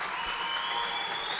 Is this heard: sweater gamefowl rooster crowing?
no